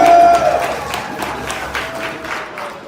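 A party crowd gives a loud, dense round of applause for Dorothy Steele, actress from Black Panther, close and full at first, then gradually thinning and fading over a few seconds.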